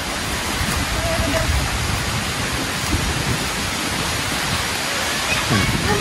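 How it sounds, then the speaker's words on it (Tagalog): Heavy spring rain pours steadily on a drive near a lakeside resort, making a loud, dense, continuous hiss and patter with no break. "malakas ang ulan"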